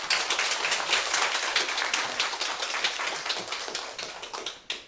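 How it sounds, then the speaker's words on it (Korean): A church congregation at a one-day revival service claps in welcome as a pastor comes forward. Many hands strike in a quick, fairly regular rhythm, loud and close, then the clapping tapers and fades out by the end. "우리 나오실 때 박수로 환영하겠습니다."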